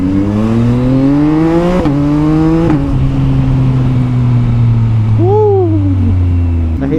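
Yamaha MT09 big bike engine revving up in rising, falling harmonic sweeps, loud and close, with sharp throttle blips and a steady high idle between them.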